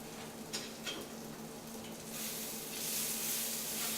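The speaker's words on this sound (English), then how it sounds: "Oh, the onions are trying to burn." Onions sizzling in a pan while cooking chili garlic shrimp, a steady close crackle that grows a little louder and brighter toward the end, with a few faint utensil clicks and no talking.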